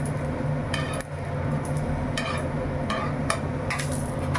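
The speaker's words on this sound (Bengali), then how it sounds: "তেল আমার গরম হয়েছে, পরোটাটা দিয়ে দিলাম।" Sago paratha sizzles in hot oil in a pan, a steady dense frying hiss with a low hum beneath and a few brief clinks of a utensil against the pan.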